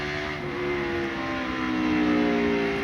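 NASCAR race cars thunder past on track, a dense, loud engine drone with layered harmonics that swells gradually as the pack draws nearer, steady and continuous without voices.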